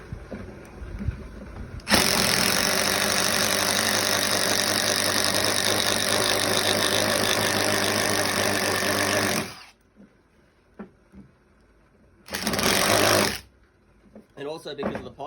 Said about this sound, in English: now we can use our spade bit